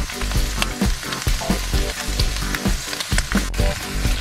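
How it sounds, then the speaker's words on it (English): Close, steady sizzling and crackling of possum meat frying in hot oil for stew, with scraping stir sounds pulsing through it and no talking. "It's starting to sizzle now so I can throw my meat in."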